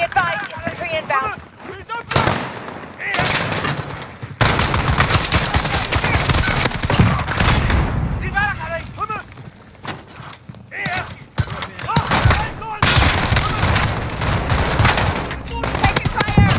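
Dense gunfire in Call of Duty Modern Warfare Spec Ops combat: rapid machine-gun bursts and single shots crackle continuously and loudly, with radio voices talking over the firefight.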